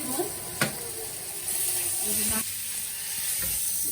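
Pointed gourd (potol) frying in oil in a home kitchen, a steady soft sizzle with a few sharp clatters of a utensil.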